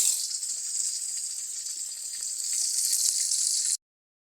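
Hilsa fish fries in hot oil with a steady, bright sizzle and hiss that stays close and even, swelling slightly before cutting off abruptly.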